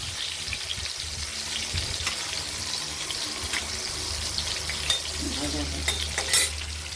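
Oil sizzles steadily in a pan while a hilsa fish curry with taro is being cooked. Occasional stirring clinks and scrapes rise over the constant close crackle, and no one speaks.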